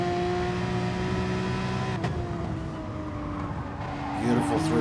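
Garage 84 Porsche race car on an onboard lap of Brands Hatch in a racing video game, a steady engine drone with shifting tones and a brief gear change, a commentator talking over it.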